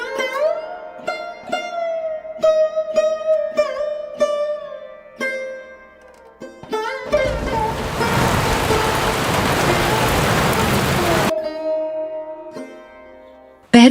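Heavy rain pours steadily for a few seconds in the middle, between stretches of plucked music with sustained notes before and after.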